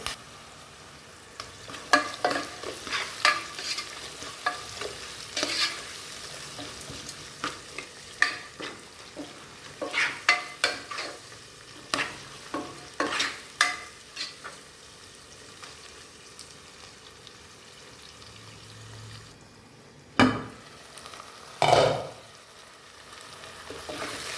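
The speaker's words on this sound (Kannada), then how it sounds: "ಕರಿಬೇವಿನ ಸೊಪ್ಪು, ಸ್ವಲ್ಪ ಫ್ರೈ ಆಗಬೇಕು." Curry leaves sizzle and crackle in a pan of hot oil while a spoon stirs and scrapes at intervals, close by, with louder bursts near the end and no talking, during the making of a bean stir-fry.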